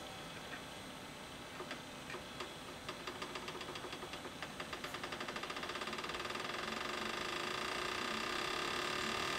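A homemade Muller motor with coils spins up from slow, separate ticks into a quickening rhythmic clicking that merges into a continuous buzz, close but faint, with no talking.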